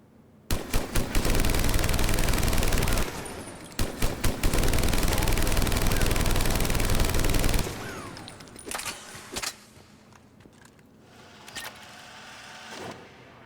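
Typhoon gun firing in Mass Effect 3, loud sustained automatic bursts in two long volleys followed by scattered single shots and short bursts, with no talking.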